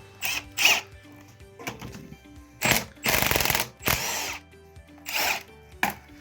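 A ratchet or power tool works on turbocharger bolts on an engine in a mechanic's workshop, giving several short bursts of loud whirring and clicking separated by pauses, close and sharp, with no speech.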